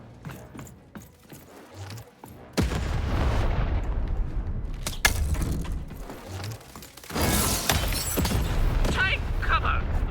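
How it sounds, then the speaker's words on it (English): Loud booming cannon blasts and explosive impacts from the video game Lost in Random erupt repeatedly, with scattered clicks and brief voice under the din. "Shoot the button to fire the cannon."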